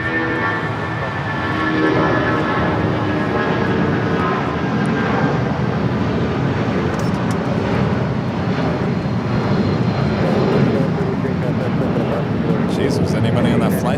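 A fixed-wing airliner passes at LAX with a loud, sustained engine roar that holds steady throughout while people chat over it.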